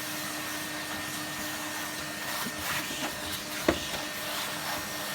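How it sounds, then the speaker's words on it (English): A 1982 Moulinex Major upright vacuum cleaner runs with a steady motor whine and airflow hiss, with a few faint knocks and one sharp click near the end. "I'm gonna run the vacuum over it quickly."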